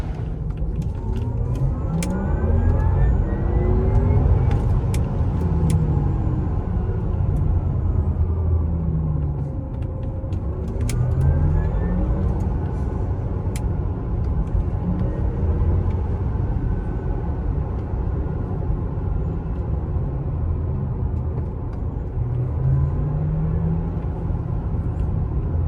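A 2020 Porsche Taycan Turbo electric car drives along with a steady, full road rumble and faint motor whine that rises and falls in sweeping glides, with no voices.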